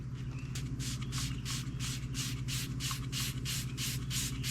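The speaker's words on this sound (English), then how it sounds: "spray it on the rag, wipe it on this heavily" A rag spread heavily with spray polish is rubbed back and forth over metal on a YOZMA IN10 motorcycle, giving a steady, close rhythmic swishing of roughly two strokes per second over a low background hum.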